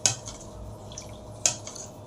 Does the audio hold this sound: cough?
no